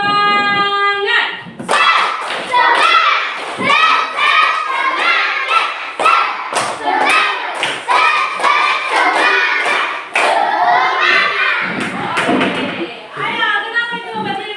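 Children in a classroom performing a rhythmic clapping chant, sharp hand claps and thumps in quick patterned bursts mixed with their shouted chanting voices, loud and close throughout.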